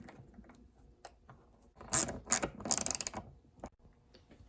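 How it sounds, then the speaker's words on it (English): A nut being screwed onto the cage of a Suntour Le Tech bicycle derailleur, with close metallic ratcheting and scraping that swells into a louder burst of rapid clicks mid-way before settling back to faint fiddling. "And then just screw on the nut."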